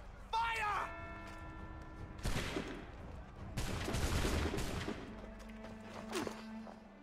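A musket volley rings out in Assassin's Creed 3 Remastered, with several broad bursts of gunfire spread across a few seconds among battlefield noise, following a shouted command.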